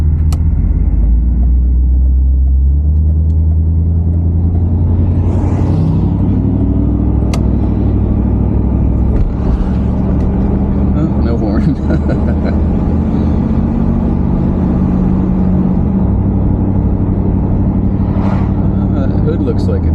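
An old Buick barn find, left sitting for years, drives along with its engine rumbling steadily and loudly from inside the cabin, the pitch swelling with light acceleration while people talk.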